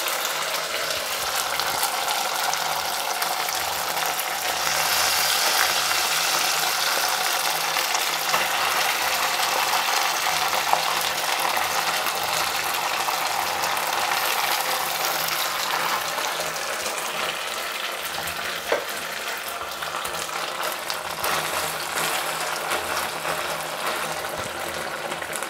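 Cooked broken wheat tipped into a pan of fried raisins and stirred for a lapsi, giving a steady, close scraping and sizzling hiss that runs unbroken throughout with no talk.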